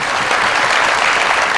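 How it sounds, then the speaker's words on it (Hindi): Studio audience of the Pakistani TV comedy talk show Mazaaq Raat bursts into applause: loud, dense, continuous clapping that fills the room evenly, with no talking. "बहुत सारी तालियां"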